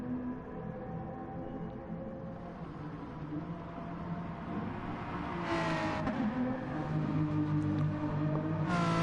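Gr4 race cars circling Laguna Seca in the Gran Turismo video game, a steady engine drone with whining, shifting pitches and brief louder rasps as cars pass, no voices.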